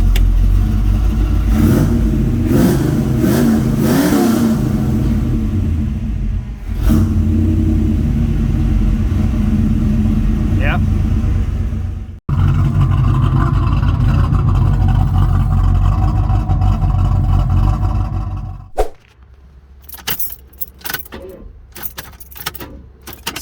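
A 1979 muscle car's V8 rumbles loudly up close, idling with several revs early on, then settling into a steady lumpy idle; keys jangle and the engine shuts off near the end, leaving scattered handling noises.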